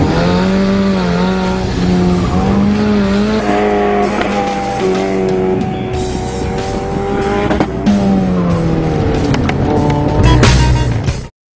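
An autocross race car revs hard through a course, its engine note rising and falling with gear changes while tires squeal and skid, loud and close throughout.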